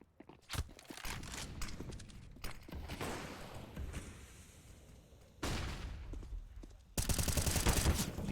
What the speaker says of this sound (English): CJ draws first blood, kicks out bottom of connector, hits the A1S headshot